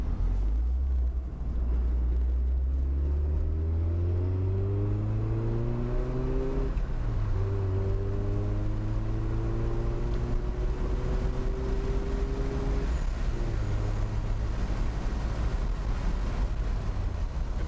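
Mazda RX-7 convertible rotary engine under way, revving up through several gears in steady climbing sweeps with shifts between them, droning close and loud over wind noise.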